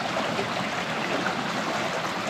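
Creek water flowing through a valley, a steady close rushing and babbling murmur that holds constant with no breaks and no talking.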